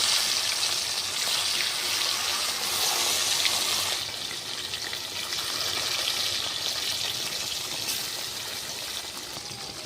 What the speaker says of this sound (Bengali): আমার তেল গরম হয়ে গেছে আমি একটা একটা করে মাছ ভেজে নেব